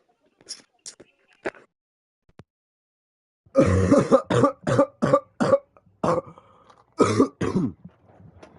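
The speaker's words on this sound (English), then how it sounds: "I've been coughing for a little while." A person coughs: a few light, scattered coughs, then a loud, close run of harsh coughing fits in rapid bursts.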